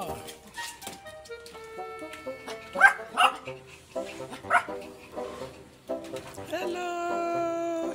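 Two small puppies yip and whimper in short bursts close by, with a person talking over them throughout.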